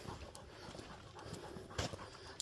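A dog pulling on its leash during a forest hike pants in quick, faint breaths, with light footsteps and soft rustling outdoors and brief sharp sounds scattered through.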